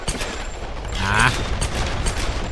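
Dense, continuous gunfire crackles from the 2013 Tomb Raider video game, a steady barrage with a brief whining ring in the middle, fairly loud throughout.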